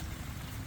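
Rain falls steadily over a sponge gourd and bottle gourd garden during harvest, a faint, even hiss of many drops with no break, no voices.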